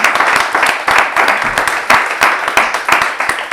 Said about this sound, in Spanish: Pues La le damos un aplauso a Isaro y las gracias.